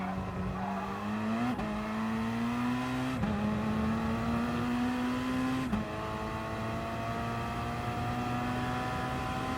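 Gr.3 race car engine in Gran Turismo Sport at Dragon Trail Gardens II: a loud, steady high-pitched drone that climbs through the revs, with sharp drops at three gear shifts, running continuously with no talk.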